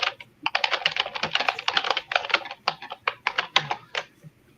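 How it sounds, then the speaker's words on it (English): Rapid bursts of computer keyboard typing, close and fairly loud, with brief pauses between clusters of keystrokes and no talking. "I'm typing away now"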